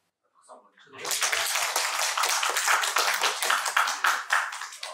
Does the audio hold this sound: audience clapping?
yes